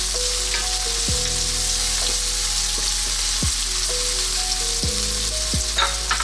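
Onion frying in a pan for a Filipino stuffed milkfish dish, giving a steady, loud sizzle with a few spoon stirs and scrapes and no talk.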